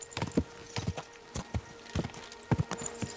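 Horse hooves clip-clopping along a road in the video game Kingdom Come: Deliverance 2, a quick uneven run of close, distinct hoof strikes repeating over a few seconds, no talking.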